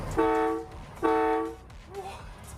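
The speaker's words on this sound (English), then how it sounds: "apparently this is a train horn. Let's see how loud this is." Two long, loud blasts of a multi-tone train horn fitted to a car sound in succession, each about half a second, followed by a faint voice.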